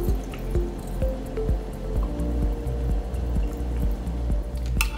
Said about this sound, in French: Puis j'ajoute l'eau bouillie et refroidie.